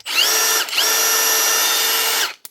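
A cleaned Milwaukee M18 impact driver whirs steadily at high speed, loud and close, briefly dipping once before spinning back up to a smooth even run, then stopping.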